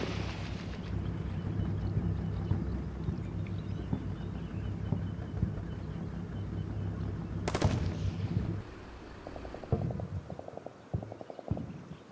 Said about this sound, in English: Now they're going to blow through the second building, which will lead directly into the MG.